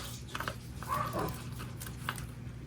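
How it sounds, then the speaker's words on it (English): Dogs barking indoors at an arriving package delivery, a few muffled barks and whimpers spread across a steady background hum, moderately loud and somewhat distant. "There goes my dogs"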